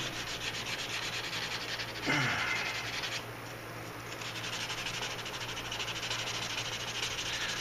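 The edge of a knife sheath is sanded by hand with 220-grit paper, a close, continuous rough rubbing and scratching with slight changes in stroke.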